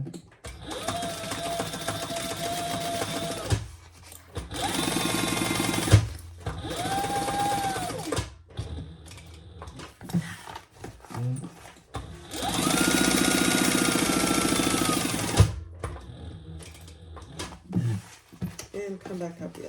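A sewing machine stitches the sides and bottom of a crossbody bag in several loud, sustained runs separated by brief stops, while a person talks over it.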